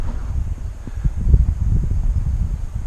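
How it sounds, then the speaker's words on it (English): Gusty outdoor wind at a lakeside buffeting the microphone, low rumbling bursts rising and falling with no voices. "I hope you guys can hear me okay, because it's quite windy."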